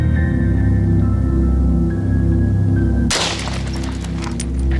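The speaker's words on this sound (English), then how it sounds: "just to see if the gun works first" A gun being test-fired lets off one sharp, loud shot that cracks out after a steady low hum and decays quickly into the background.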